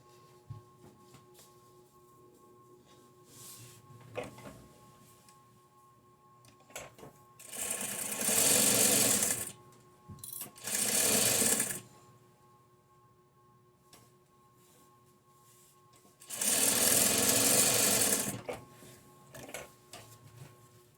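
A sewing machine stitches quilt squares from a layer cake, running in three loud, steady whirring bursts of a couple of seconds each, separated by quiet handling noises and no talking.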